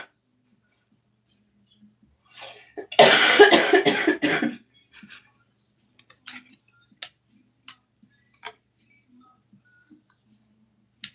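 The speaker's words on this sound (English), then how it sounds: "excuse me, for any and all coughs" A short burst of coughing, close and fairly loud, lasting about a second and a half in an otherwise quiet room, followed by faint scattered ticks and small handling noises.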